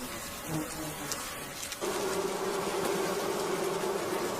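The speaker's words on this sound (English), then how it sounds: "how these murder hornets can get into a bees colony and kill tons of bees" Japanese honeybees at their colony under attack by a murder hornet scout, a dense continuous insect buzz that swells louder partway through, with a steady droning hum and no voices.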